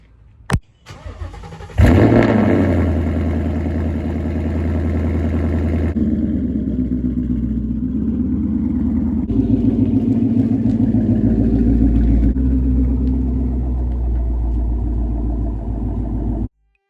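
A 2018-2023 Ford Mustang GT engine starts with a sharp burst and settles into a steady, close, loud idle and low rumble as the car is driven out, with slight changes in tone.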